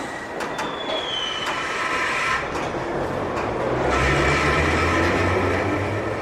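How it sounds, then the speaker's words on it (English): A London Underground Tube train rumbles and clatters as it pulls away at rush hour, with a brief high squeal early on and a deepening roar of wheels building toward the end. "This train is ready to depart."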